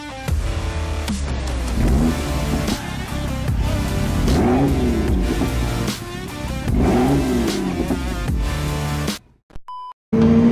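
A Ginetta G40 Junior race car engine on a track day at Donington Park, loud and close, revving up and down in repeated rising and falling sweeps before cutting out abruptly near the end.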